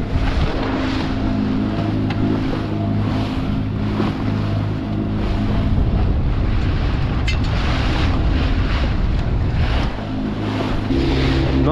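A motor dinghy runs on the sea during commercial gill netting, its engine droning steadily under loud wind buffeting and wave wash for several seconds.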